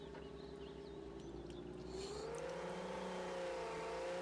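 A heavy truck engine in Mudrunner drones in a low gear after a downshift, its steady whining hum rising in pitch as it strains, continuous and close.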